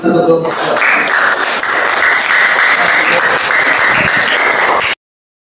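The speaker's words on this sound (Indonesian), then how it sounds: "Beri tepuk." Classroom applause from students during a lesson, a burst of dense, loud clapping that holds steady for nearly five seconds and then stops abruptly, with a voice briefly audible at the start.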